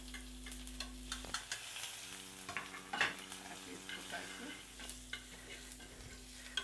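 Whole cumin, dried red chillies and cinnamon sizzle and crackle in hot oil, with scattered sharp pops and a spoon stirring against the pan, close and fairly quiet.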